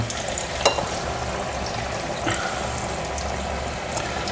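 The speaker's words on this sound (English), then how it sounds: "So just going to pop mine in like that, and they should sizzle lovely." Steady hissing sizzle of onion bhajis frying in hot oil, close up, with a couple of small pops and crackles.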